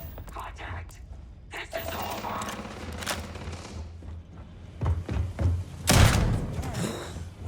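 Gunfire from the video game Starfield during a fight, several sharp loud bursts and thumps, the heaviest near the end, mixed with a voice talking.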